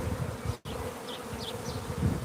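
Africanized killer bees from a hive swarm in Arizona, buzzing steadily in a dense, continuous drone, fairly faint and close, with individual insects whining past now and then and no voices.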